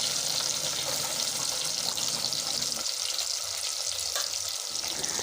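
Chopped onions fry in oil in a pot for homemade gongura chicken, a loud, continuous hiss and crackle of sizzling that stays steady with slight stirring shifts throughout.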